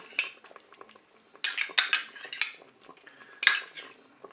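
A utensil stirring crème fraîche in a Cookeo pot, with irregular scraping and clinking strokes against the metal bowl, close and fairly quiet, in bursts separated by short pauses.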